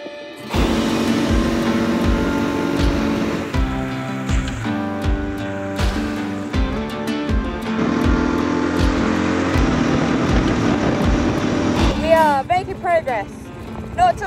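A motorcycle rides along a rally road during a roadbook navigation event, its engine loud and close with repeated gear changes and throttle rises and falls, running steadily throughout.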